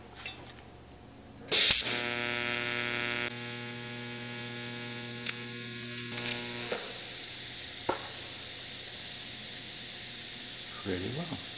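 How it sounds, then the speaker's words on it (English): A seam on a custom battery tray for a Yamaha XS400 motorcycle is welded, a steady buzzing electric hum with crackle that runs for a few seconds and then stops, followed by brief taps and a little talk. "A little bit tricky of a seam to weld."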